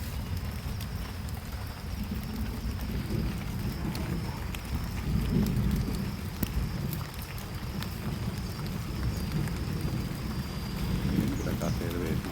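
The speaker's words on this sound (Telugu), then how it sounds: "వర్షం స్టార్ట్ అయింది" Rain falls outdoors during sapling planting as an even, wide hiss, with a low rumbling background and faint voices underneath.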